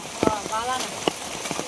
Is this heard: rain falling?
yes